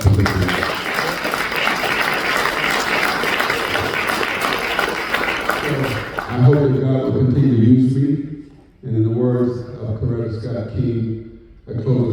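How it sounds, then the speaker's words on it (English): An audience at a foundation's annual brunch applauds loudly and steadily for about six seconds, then the clapping stops and a speaker's voice takes over. "we need to give them a round of applause for standing up"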